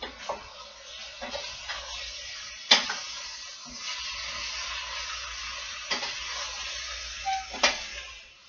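Eggplant cooking down in oil in a pan for herb ratatouille, giving a soft, steady sizzle and hiss with a few sharp clicks and taps of a utensil stirring against the pan.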